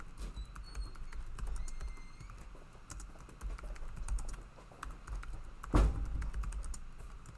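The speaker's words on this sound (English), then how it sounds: "so I'll type this all out" Quick, irregular keystrokes tap on a computer keyboard, faint and close, in bursts with short pauses and one louder thump near the end.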